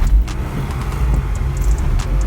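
Inside a car fitted with a swapped engine and custom AC line, the engine runs with a steady low rumble and some intermittent clicks, close and fairly loud, without any speech.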